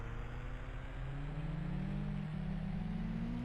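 Race cars leaving their pit boxes in the IndyCar Series 2005 video game at Richmond International Raceway, a steady engine drone whose pitch climbs smoothly as the cars accelerate away, with no talking.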